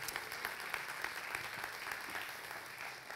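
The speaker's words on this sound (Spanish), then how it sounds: "denle un aplauso más fuerte a Dios por este día." A church congregation claps together in steady, dense applause, heard from some distance and fairly soft, with no voices over it.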